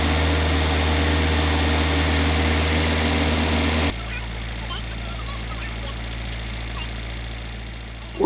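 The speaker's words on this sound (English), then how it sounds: "I'm going to turn the tractor on and ease forward a little bit to take the tension off" A tractor engine runs loudly with a rough, steady drone, then drops to a quieter level partway through, while the tractor is working on a goat fence.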